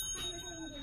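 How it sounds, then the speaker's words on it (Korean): A small bell ringing on the right side during a party game, a thin sustained metallic tone over about a second, faint and somewhat distant. "자, 오른쪽 종소리 들으신 분 누구십니까?"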